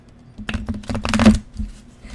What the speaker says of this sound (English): Okay, I'm shuffling for you, Banana.